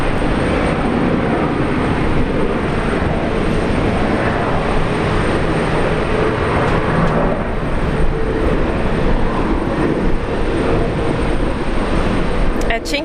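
A Velocity airliner lands on runway 19 left at Brisbane Airport, its jet roar a loud, steady wash of noise that holds for the whole stretch and swells slightly near the end.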